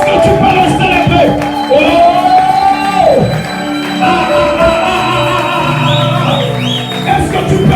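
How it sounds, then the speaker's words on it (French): A church congregation cheering and shouting for joy during a worship celebration, with loud overlapping whoops, yells and voices sustained throughout and music underneath. "Est-ce que tu peux célébrer Jésus avec tes cris de joie?"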